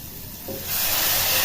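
Water poured into a hot pan of frying red lentils (masoor dal) with papaya sets off a sudden loud hiss, a brief splash at first swelling into steady broadband sizzling steam that continues to the end.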